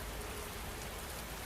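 Steady rain falls over a darkening forest and taps against windows, a dense, even wash of drops with no pauses, fairly quiet and unbroken throughout.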